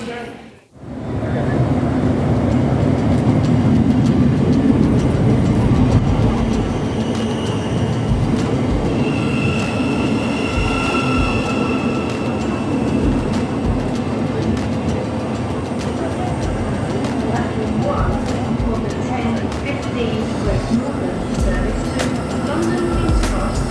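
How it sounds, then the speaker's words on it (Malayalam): A train pulling in at a London station platform, a loud continuous rolling rumble with metallic wheel squeal and clatter lasting throughout, a few faint voices around it. "ട്രെയിൻ ഉടനെ എത്തിയായിരുന്നു കേട്ടോ."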